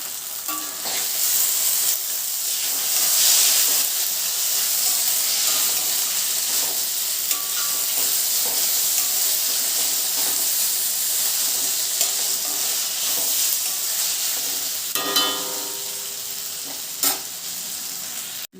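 Basmati rice for Schezwan fried rice sizzles and hisses steadily in a hot pan as it is stirred, a close, continuous frying sound with occasional scrapes of the spatula and no talking.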